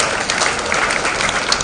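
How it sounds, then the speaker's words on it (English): Audience applause fills a college auditorium at the inauguration of a Google certification program, a dense, steady wash of clapping with no voices over it. "please give yourself a big round of applause."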